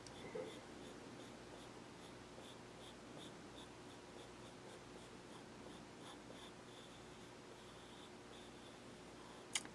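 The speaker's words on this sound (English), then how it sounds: "Now when you're drawing the ellipses, do the best you can." Pencil or pen scratching steadily across paper while sketching ellipses for an isometric circle drawing, a faint continuous close scribble with soft strokes and a light knock at the end.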